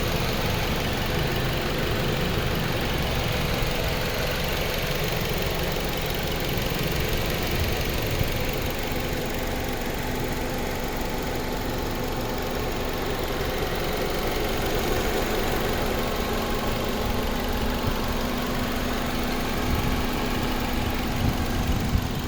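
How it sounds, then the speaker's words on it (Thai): A 2002 Honda CR-V with automatic transmission idling, a loud and steady engine drone that holds without change throughout, heard close up with no speech. "คุณลูกค้าลองฟังเสียงเครื่องอีกรอบครับ"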